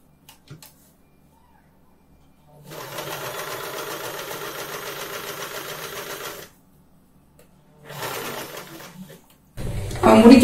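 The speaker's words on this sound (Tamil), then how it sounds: "இந்த ஸ்ட்ரெயிட் லைன் ஸ்டிச் பண்ணி வந்து" Sewing machine running a straight line stitch, in two separate bursts of steady whirring, a long run followed by a shorter one, with a brief louder noise at the end.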